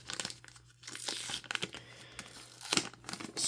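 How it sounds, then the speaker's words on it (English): Crinkling and tearing of a small resealable plastic bag being opened to unpack a K-pop photo and video collection, with short rustling bursts and a louder rip near the end, close and alone. "So it's in a little resealable bag."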